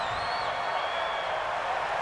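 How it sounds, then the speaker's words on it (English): Football stadium crowd at a Giants vs Buccaneers game, a dense steady roar of many voices with a rising whistle-like tone riding on top, loud and continuous with no break. "The crowd's not doing that O-line any favors."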